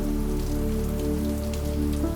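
Steady rain patters against a window, a dense, even wash of drops that stays constant and close with no pauses and no voices.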